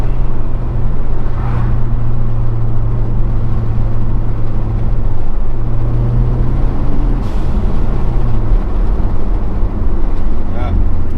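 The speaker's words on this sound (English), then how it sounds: "Plus you hear that intake noise under the hood." A Ford Focus ST engine with a free-flow air filter gives a loud, steady intake drone and turbo whoosh under the hood, a low sustained rumble with pitch shifts, while a person talks over it.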